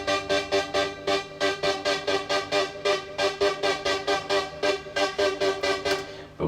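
Two panned synth sounds in a grime instrumental play together as a bright pulsing pattern, about three hits per second, evenly spaced and steady throughout.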